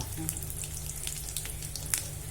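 Dried red chillies and peanuts frying in hot oil in a pan for tamarind rice, giving a steady crackling sizzle with scattered pops throughout.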